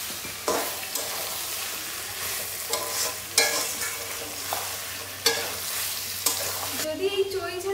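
Whole garlic cloves stir-fried in a pan, with steady sizzling and frying broken by repeated scraping stirs of a spatula at roughly one-second intervals, close and clear with no talking.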